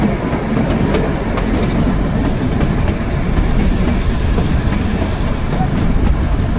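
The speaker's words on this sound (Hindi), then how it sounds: "और हमारी ट्रेन चल रही है ऊपर" Kalka-Shimla toy train running along its mountain line, a loud continuous rumble with rhythmic wheel clatter heard from on board, steady throughout.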